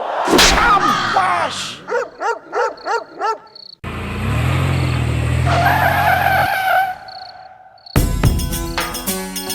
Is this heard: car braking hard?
yes